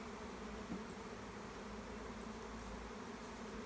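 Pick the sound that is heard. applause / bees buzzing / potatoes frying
bees buzzing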